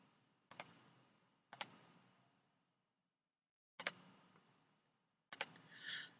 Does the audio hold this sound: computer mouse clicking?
yes